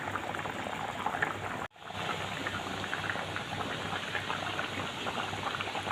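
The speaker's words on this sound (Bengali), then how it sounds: "জল দিয়েছিলাম ঝোলের জন্য, এবার ঝোলও ফুটে উঠেছে।" Curry gravy with okra bubbles steadily in a pot, a continuous close hiss and gurgle of boiling with one brief break before the bubbling resumes at an even level.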